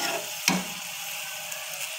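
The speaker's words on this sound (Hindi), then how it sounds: "तो अब मैं इसे हल्की सी आंच पे फ्राई करूंगी।" Masoor dal with black pepper frying over a low flame, a steady close sizzle with a single sharp scrape of a spoon early on.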